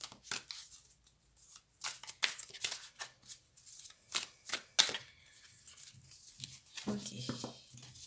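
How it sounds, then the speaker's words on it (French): Tarot cards are shuffled by hand in quick, irregular riffling and flicking bursts, close by and fairly quiet. "Alors, on va bien battre les cartes."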